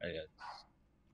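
A dog gives two quick, close barks, the second brighter and sharper, followed by near silence.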